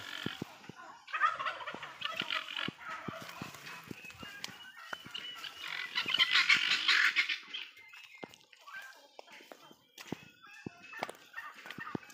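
Guinea fowl call repeatedly nearby on a farm, harsh rhythmic cackling bursts that swell to a loud chorus midway, with footsteps and rustling between calls.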